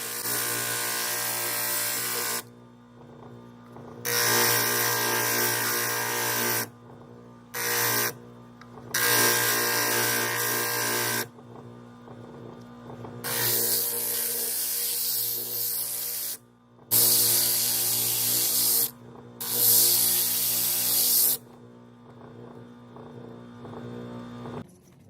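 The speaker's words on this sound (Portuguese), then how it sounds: "Então nós vamos começar lixando ela aí" A grille part for a Chevrolet D20 scale model is sanded in repeated bursts of steady, hissing abrasion lasting several seconds each, separated by short pauses, over a faint hum.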